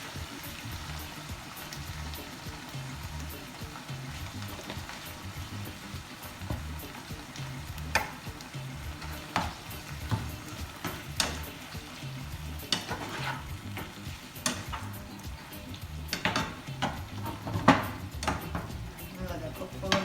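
Callaloo and saltfish sizzle in a pan with a little coconut oil, a steady low frying hiss broken by scattered clinks and scrapes of stirring, with speech in the background.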